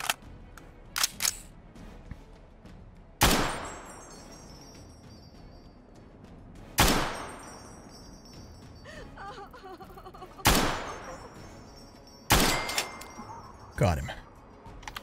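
Gunfire in the game Fallout, Tale of Two Wastelands: sharp single shots spaced a few seconds apart, each loud and cracking with a ringing tail, over quiet ambience.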